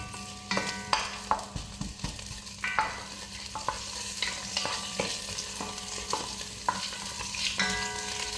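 Onions frying in olive oil, a continuous bright sizzle broken by repeated spatula scrapes and metallic clinks against the pan, close and fairly loud with no speech.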